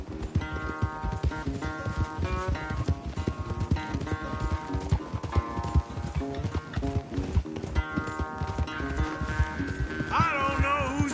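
Horse hooves galloping in a race in the game Red Dead Redemption 2, a fast, loud, steady clip-clop rhythm with layered musical score and a brief whinny-like sound toward the end.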